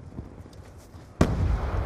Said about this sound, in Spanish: Eso es una granada estratégica